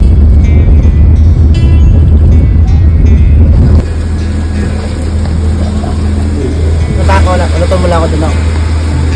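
Heavy rain pours on a moving bus, the interior filled with a loud, continuous engine drone and road roar while voices talk underneath.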